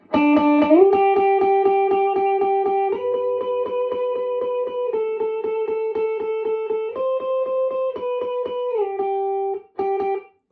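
Electric guitar through an amp and a compressor pedal, a steady rhythmic run of evenly picked notes stepping up and down in pitch, clean and upfront with no voices, ending in a brief pause and a last few notes.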